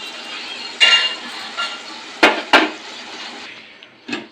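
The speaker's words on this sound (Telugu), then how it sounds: "మూత తీసుకున్నానండి." Metal cookware clanks a few times as a lid is lifted off a pot of mutton rogan with cumin, with sharp clinks over a steady cooking hiss.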